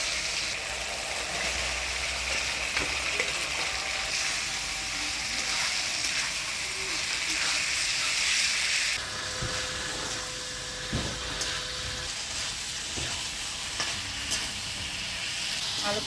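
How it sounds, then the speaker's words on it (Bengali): Potatoes and pointed gourd sauté in a pan as a dense, loud, continuous sizzle, with occasional stirring knocks and a softer stretch in the second half. "আলু পটলটা ভালোভাবে কষিয়ে নিলাম"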